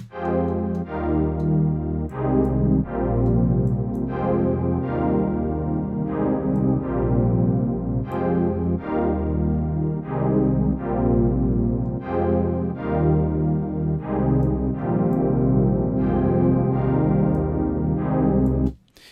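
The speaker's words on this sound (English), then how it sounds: "we're just going to have a pretty basic reverb" Sustained deep house synth pad chords made in Serum change every second or so, washed in reverb that blurs each change, loud and continuous with no voices.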